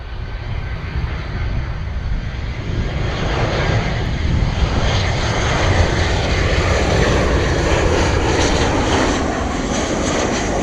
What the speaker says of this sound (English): look at this gorgeous Ryanair Boeing 737 coming in